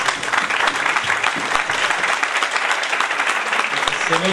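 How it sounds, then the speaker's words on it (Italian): Sustained applause from an audience at a Rotary Club ceremony in Lauria, dense steady clapping filling the whole stretch at a constant loud level. "un applauso"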